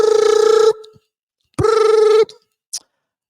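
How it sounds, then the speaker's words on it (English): A telephone rings in two long, loud buzzing tones separated by a short silence, followed by a brief faint click. "They get their phone call when they're under the drive."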